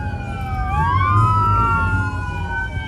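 Police sirens wail and yelp at a crowded street car meet in LA, loud and nearby, with their sweeping tones overlapping above a low rumble of idling engines.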